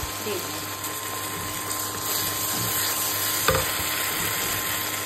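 Fresh river pabda fish is fried and stirred in spiced masala in hot oil, giving a steady close sizzle with occasional stirring scrapes and bubbling.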